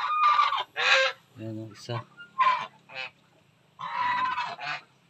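Chickens at a farm laying nest give short clucks and calls between bursts of nearby talk, some loud and close, a few softer low notes in the pauses.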